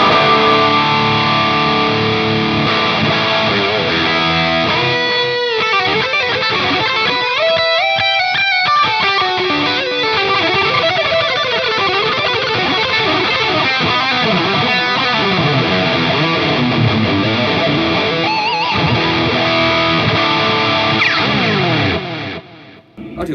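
An electric guitar plays through the distortion of a Tech 21 Richie Kotzen Signature RK5 Fly Rig multi-effects pedal, thick and saturated, with sustained chords and shifting riffs ringing continuously before cutting off.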